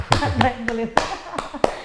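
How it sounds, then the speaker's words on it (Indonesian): A lone person claps by himself in a campus interview setting, giving about six sharp, evenly spaced claps with short pauses, close and distinct, while a voice talks underneath. "Saya tepuk tangan sendiri"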